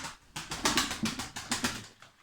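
A female black kara çıtır pigeon cooing close by, a run of soft rhythmic coos pulsing about twice a second with a faint breathy flutter, no talk.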